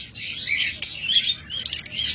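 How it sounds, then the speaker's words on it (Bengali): Caged pet birds, a per blue Fischer's lovebird among them, chirp and squawk in shrill, busy bursts close by, with brief pauses between flurries and no talk. "এই যে একদম ক্লোজ রিং এর পাখি"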